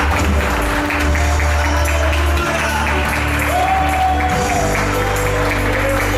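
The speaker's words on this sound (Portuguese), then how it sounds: "Você pode dar um forte aplauso ao Senhor" A church congregation applauds during a Portuguese-language worship service, a loud, dense wash of clapping mixed with sustained tones and voices.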